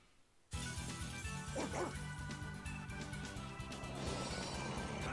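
An illusory dog in the game Tales of Vesperia barks and yips repeatedly over loud game music after a sudden start, the barks close and energetic.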